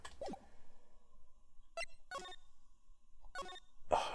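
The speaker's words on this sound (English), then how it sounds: "Oh my god, my phone's going off." A phone rings in Phoenix Wright: Ace Attorney in a few short, separate tonal bursts, spaced apart against quiet, with the last burst louder.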